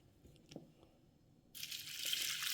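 Water poured over a cup of thick samba flattened rice (aval) for rinsing, starting as a steady broadband gush that follows a few soft handling knocks, close and moderately loud with no talk.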